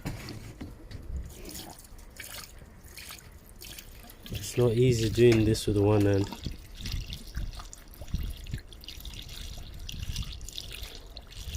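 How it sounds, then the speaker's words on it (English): Water runs and splashes while a Toyota MR2 radiator is flushed with a hose, draining rusty brown water, a steady wet trickle with a louder gushing burst midway; someone talks over it. "I just want to keep flushing it until I start getting clear water through."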